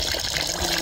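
Water pours and gushes steadily over minced mutton being rinsed in a pot, a continuous close splashing wash of liquid with no talk.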